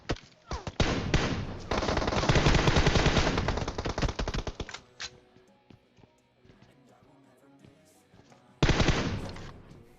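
Automatic gunfire from a spray in the mobile battle-royale game PUBG Mobile: dense rapid bursts fill the first half, then fade to sparse pops before a final loud burst near the end, heard close and alone.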